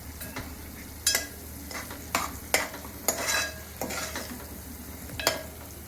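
Onion sautéing in a spiced tempering for misal, browning in hot oil with a soft continuous sizzle and several sharp spoon scrapes and knocks against the pan at irregular intervals.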